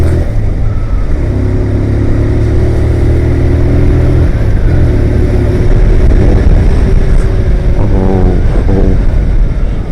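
A motor vehicle drives along a road, its engine droning loud and steady up close with rising revs and a few shifting tones as it overtakes another vehicle.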